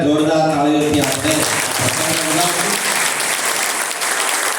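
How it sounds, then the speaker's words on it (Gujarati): A large audience at a devotional gathering bursts into loud, sustained applause, dense clapping that fills the space after a voice trails off at the start. "ત્યારે જોરદાર તાળીઓથી આપણે"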